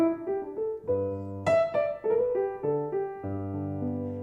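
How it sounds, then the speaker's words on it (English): Solo piano plays a short jazz phrase with a tritone substitution, sustained chords and a moving bass line rising and falling across several changes, clear and close with no voices. "So if I were doing a tritone sub, it might sound something like this."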